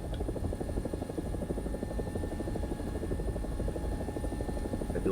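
An AB 205 A-1, the Italian version of the UH-1H helicopter, flies in a video game. Its rotor gives a steady, loud thumping drone that stays at a constant level throughout, with no voices.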